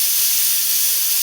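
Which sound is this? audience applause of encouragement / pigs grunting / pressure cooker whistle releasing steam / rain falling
pressure cooker whistle releasing steam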